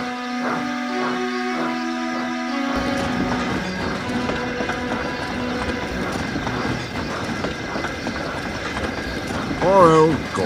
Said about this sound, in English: The guard's whistle blew, and Gordon puffed sadly away.